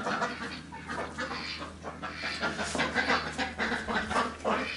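Hens cluck softly and repeatedly in a farmyard on a sunny, frosty day, with ducks foraging nearby, an irregular close chatter with no talking.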